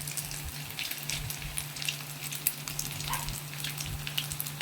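Food frying in hot oil in a pan, giving a steady, faint crackling sizzle with scattered pops, heard alone at a low level.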